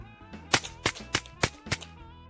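A series of suppressed .22 LR rifle shots rings out, five sharp, muffled cracks evenly spaced about a third of a second apart, close and clear.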